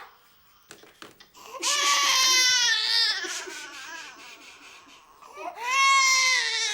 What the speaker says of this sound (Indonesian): Saya pindahin bayinya Andri dulu. Aduh, nangisnya kencang banget diganggu suaranya ya.